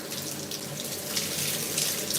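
Tap water runs steadily into a sink to rinse a foot pumice stone, a close, even rushing splash with no pauses and no talking.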